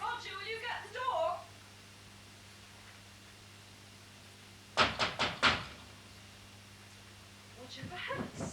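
A door at a house is knocked on, a quick burst of about four sharp raps in the middle, loud and near, after a stretch of quiet; people talk before and after the knocking.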